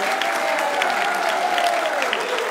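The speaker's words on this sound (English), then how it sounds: "That applause is louder than the Redskins when they get too open." Church congregation applause during a sermon, a loud, sustained burst of many hands clapping with a faint tone running underneath, heard alone without speech.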